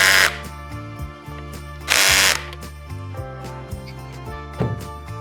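Power tool driving fasteners to secure an H-Bar standing support mount onto a Hobie Pro Angler kayak: short bursts of whirring drive, two loud ones near the start and middle, with clicking and handling noises in between.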